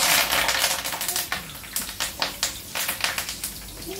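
Curry leaves hit hot oil with garlic for a fish dish, giving a close, crackling sizzle with sharp spitting pops that ease into a quieter fizz.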